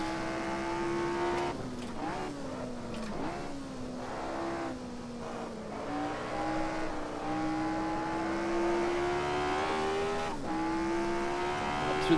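A race car in Assetto Corsa sweeps down a hill into a corner with heavy oversteer, its engine whining steadily as pitch climbs and dips with gear changes, while tires squeal under the constant, close drone.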